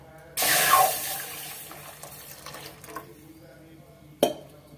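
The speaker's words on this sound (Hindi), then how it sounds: "एबे देखंतु मैं गैस रो गोटे पैन बसे देथिली आ खीर को हम ढाल दबा।" Milk pours into a pan on a gas stove as a steady liquid gush that starts abruptly, lasts about two seconds and then fades, followed by a sharp metallic clank near the end, with no talk.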